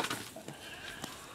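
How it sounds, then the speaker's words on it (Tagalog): Goats on a farm, five of them heavily pregnant, give a couple of faint, brief bleats at a distance, with quiet background between calls. "Kambing natin nasa bukid"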